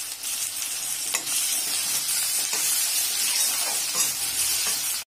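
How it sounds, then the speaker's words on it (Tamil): Tomatoes sauté with rock salt in a pan for a brinjal gravy, producing a loud, dense, continuous hissing sizzle with a few faint stirring knocks before it cuts off abruptly at the end. "தக்காளியை நல்லா வதக்கிக்கலாம்."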